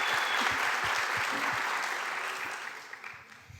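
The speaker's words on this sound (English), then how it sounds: "give a very warm round of applause to our organizers" A conference audience claps in warm applause for the organizers, a steady dense patter that gradually fades toward the end.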